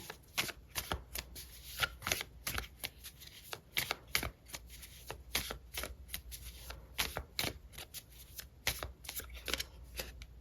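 Tarot cards shuffled by hand for a love reading, a steady run of crisp riffling bursts and soft card slaps, close and fairly quiet with no talking.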